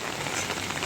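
Heavy rain pours steadily on a rainy-season day in Hemayetpur, Bangladesh, a dense, unbroken hiss of drops on surfaces filling the scene without any voices.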